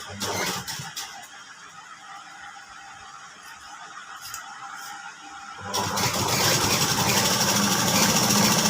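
A sewing machine top-stitches along the edge of a chudidar pant, a quieter mechanical whir at first that swells into a loud, continuous, steady run of stitching.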